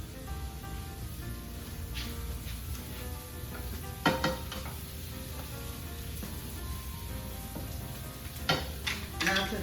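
Onions soften in a pan with a steady, moderate sizzle and crackle, broken by two louder bursts of spatter or stirring.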